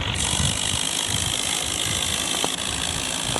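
A John Deere tractor engine drones steadily while driving, a continuous close broadband rumble with faint rattling and a brief click partway through, no talk.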